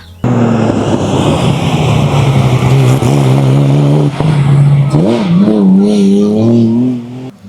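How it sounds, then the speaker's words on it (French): A Ford rally car at a slalom race in Chamblon roars loud and close at high revs, the engine pitch surging, dipping and climbing again for several seconds before dropping away. "Ça patine fort chez les Ford."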